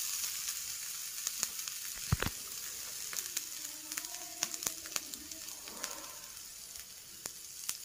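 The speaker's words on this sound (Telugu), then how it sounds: "ఇది రోస్ట్ అయిన తర్వాత గ్రీన్ చిల్లీస్ ని కూడా యాడ్ చేసుకొని రోస్ట్ చేసుకోవాలి" Green chillies roasting in a hot pan for hara bhara palak and matar kababs, a steady soft sizzle with scattered crackles and occasional spatula clicks, close and fairly quiet with no talk.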